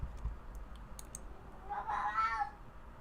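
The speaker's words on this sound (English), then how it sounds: "You guys are hearing my cat talk to us." A house cat gives one drawn-out, wavering meow in the second half of the clip, faint and somewhat distant, following a few soft keyboard-like clicks at the start.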